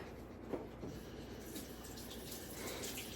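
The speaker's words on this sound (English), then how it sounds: "let me run it under a little bit of just warm water real quick" Warm water runs from a tap over a silicone tray in a sink, a faint steady splashing stream with small shifts as the tray moves, quiet and continuous with no speech.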